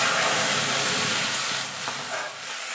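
Water is poured into a hot pan of fried moong dal and meets it with a loud, rushing hiss that eases after about a second and a half into a softer steam.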